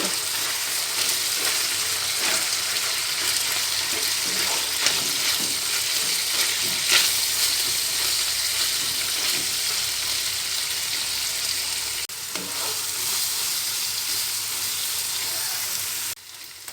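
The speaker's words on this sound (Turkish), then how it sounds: "Soğanımla birlikte etimi kavuruyorum." Meat and onions sauté in oil in a pan for Mersin-style tantuni, giving a steady, loud broadband sizzle that runs unbroken throughout with faint stirring scrapes.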